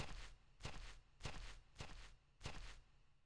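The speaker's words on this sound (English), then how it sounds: "I like how wet the grass sounds as we're walking on it." Footsteps across wet grass in the video game Echo Night 2, a steady walking rhythm of about five soft, squelchy steps spaced roughly evenly, close and moderately loud with no talking.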